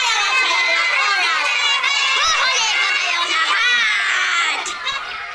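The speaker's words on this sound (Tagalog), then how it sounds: "Nagsitakbuhan sila at sa kanilang takot, sumisigaw sila" Children in a classroom play scream and shriek in mock fear, a dense chorus of high, overlapping young voices that stays loud and close throughout.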